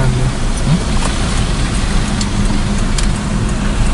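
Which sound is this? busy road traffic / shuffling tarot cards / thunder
busy road traffic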